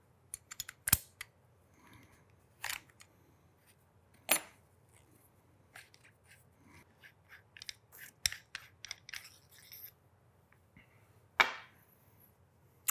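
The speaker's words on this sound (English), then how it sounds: "Next, we're going to use the included barrel nut wrench to remove the barrel nut." A barrel nut wrench loosening the barrel nut on a firearm, heard as sparse, sharp metallic clicks and clanks with quiet pauses between them, close and alone.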